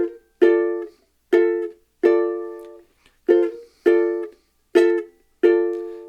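Ukulele playing the intro of a song, seven bright plucked chords with short gaps between them, each ringing out and fading, close and clear with no talking.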